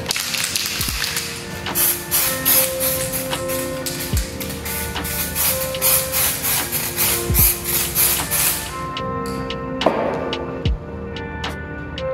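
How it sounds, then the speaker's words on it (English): Tacking spray hisses in short aerosol bursts onto a screen printing layer, with clicks and taps of handling between sprays, close and fairly loud. "let's use some of this tacking spray to make sure that this thing stays down really tight"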